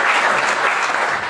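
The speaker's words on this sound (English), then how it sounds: "that just deserves a little bit of a round of applause" Brief burst of audience applause at a real estate mindset seminar, dense, even clapping from a crowd, loud and continuous for just over a second.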